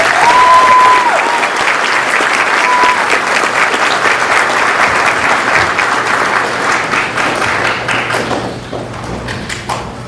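A graduation audience in a ballroom gives student performers a sustained round of applause, loud and dense for about eight seconds before thinning out; a couple of brief whistle-like tones ring out early.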